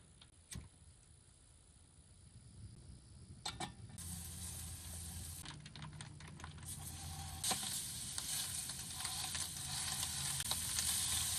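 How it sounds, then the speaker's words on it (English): Italian pork sausage and hash with potatoes O'Brien fry on a camp stove out on the ice, a steady sizzle that grows louder, broken by scraping and stirring clicks, close up and with nobody talking. "I'm gonna fry up a bunch of hash, put it into tortillas, and fry all this up"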